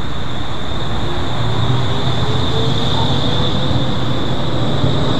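A VLT electric light rail tram in Santos, Brazil, runs past with a loud, steady rolling roar and a sustained high electric whine, with no voices.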